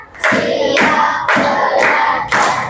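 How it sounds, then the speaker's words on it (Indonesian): Children in a fifth-grade primary school classroom clap a counted routine, four loud bursts of hand claps with short gaps between them, close and with no talk over them. "Yuk, coba tepuk satu, tepuk dua, tepuk tiga, tepuk empat."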